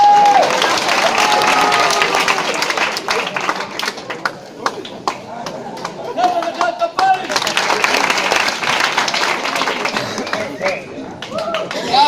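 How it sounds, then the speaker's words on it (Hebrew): Audience at a Friday evening performance show claps for a volunteer named Menachem, steady loud applause with scattered cheers and voices throughout. "מחיאות כפיים למנחם!"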